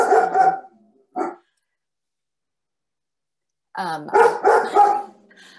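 A pet dog barks indoors during an online meeting, a short burst of sharp barks, a lone yip after a pause, then another quick volley of loud, close barks.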